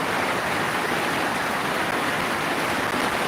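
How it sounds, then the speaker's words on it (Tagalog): Heavy rain pouring down around a house, a loud dense hiss of steady downpour with no breaks, close and enveloping, with no one talking. "lakas ng medyo malakas-lakas din yung ulan"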